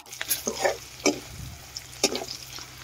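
Onions frying in a pan for a Sambalpuri-style chicken curry, giving a soft sizzle broken by several sharp scraping stirs of a spoon against the pan, close by with low background hum.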